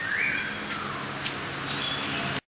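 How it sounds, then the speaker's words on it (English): Small caged birds chirp and tweet close by, a few bright calls over a steady wash of background noise, at a spot in Ha Giang, North Vietnam. "They have many cages with birds in."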